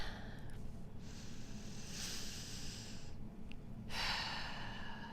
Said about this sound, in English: So I want you guys to take a deep breath.